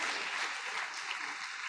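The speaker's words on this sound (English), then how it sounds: "A round of applause for that." Steady audience applause at a university annual lecture, greeting news of a scholar's inauguration into the Nigerian Academy of Letters, a dense unbroken wash of clapping throughout.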